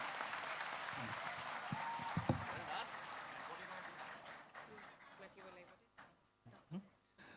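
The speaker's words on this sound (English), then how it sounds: "a very, very big round of applause" A hall audience gives a round of applause for a student at a felicitation ceremony for meritorious students, with clapping fading toward the end and a voice talking over it.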